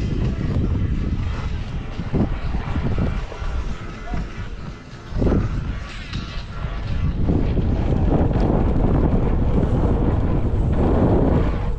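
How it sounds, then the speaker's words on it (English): Wind roars across a ski slope at a slopestyle event, loud buffeting gusts hitting the microphone that ease briefly midway and then return stronger. "the wind is strange here"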